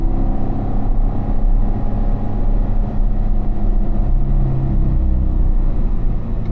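Engine under throttle in fourth gear on a track, a loud steady low drone held close throughout, with no talk over it.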